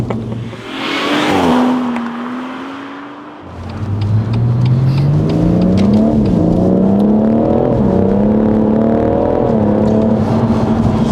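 A tuned BMW M140i's engine rises and falls through repeated revs while the car drifts, starting with a brief roaring burst, then a dip before climbing through several loud, near gear-like pulls with faint tyre noise.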